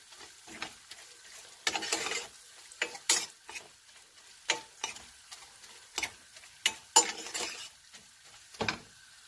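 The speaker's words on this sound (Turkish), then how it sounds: "Ve salçamı da kıymamla birlikte kavuruyorum." Minced meat and homemade tomato paste being sautéed together in a pan, with irregular sharp spoon scrapes and clicks over a low, quiet sizzle, and no talk.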